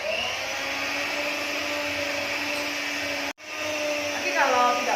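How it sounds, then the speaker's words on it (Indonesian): An electric hand mixer with spiral dough hooks kneads bread dough for a soft cheese bakery roll, giving a steady, loud motor whine with a brief cut-out near the end before it resumes, with no talk. "Kita lanjutkan dengan menggunakan hand mixer ya teman-teman"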